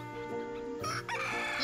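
A chicken in the video game Little King's Story clucks and crows with a bright harmonic call, loud and close, repeating twice over the short stretch against a game music backdrop.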